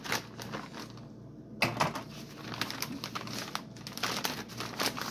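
A knife slices open a shipping package holding a graded, autographed baseball card, giving close crinkling, tearing plastic and cardboard scraping with a brief louder rip partway through, all without speech.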